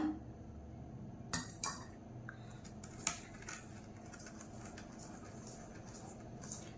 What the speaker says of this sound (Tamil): இப்போ இதை நல்லா கலந்து விட்டுக்கோங்க